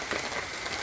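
Rain falling steadily at a temple where people shelter, a dense, even hiss of drops on surfaces, close and unbroken, with no voices.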